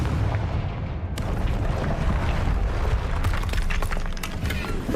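A Confringo fire spell goes off in Hogwarts Legacy, a loud blasting burst with continuous rumbling and crackling impacts filling the whole stretch.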